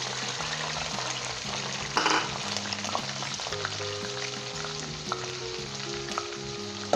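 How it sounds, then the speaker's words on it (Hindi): Garlic and ginger fry in vegetable oil in a non-stick pan, giving a steady close sizzle with occasional stirring scrapes and a low background hum throughout. "तो अब हम इसके अंदर सबसे पहले जो है अपना लहसुन और अदरक डालेंगे"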